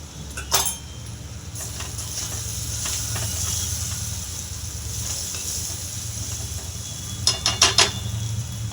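Onion, tomato and green chili masala sizzles steadily in a pan, a continuous close hiss with a few sharp scraping clinks of a utensil near the start and end.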